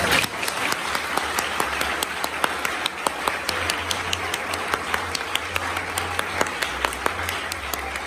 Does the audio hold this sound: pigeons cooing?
no